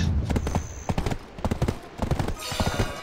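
Horse hooves clip-clopping at a gallop in Black Desert's online node war, a rapid rhythmic thudding that is near and fairly loud, with brief bursts of other combat noise mixed in.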